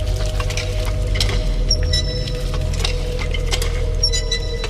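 Water gushes from a village hand pump into a clay pot in a steady pour with a low droning undertone and occasional light clinks, fairly loud and close, with no one speaking.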